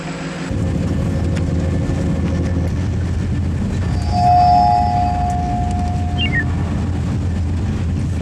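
A train rolls through a railway station, a steady loud rumble with a sustained tonal squeal or horn-like note partway through and a short rising whine near the end, with no voices.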